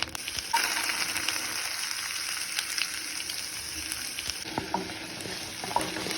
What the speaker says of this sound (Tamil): இந்த வெங்காயத்தோட கத்திரிக்காய் போட்டு வதக்குறேன்